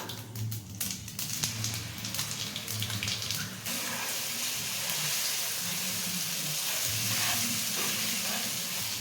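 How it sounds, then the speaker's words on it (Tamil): Mustard seeds splutter and crackle in hot oil in bursts, then idli batter goes into the pan and a dense, steady sizzle takes over, close and continuous. "கடுகு நல்லா பொரிஞ்சிடுதுங்க. இந்த மாவை கடுகுல ஊற்றிக்கலாம்."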